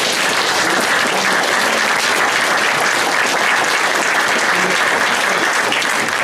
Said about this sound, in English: So we applaud Sheriff Taylor and his staff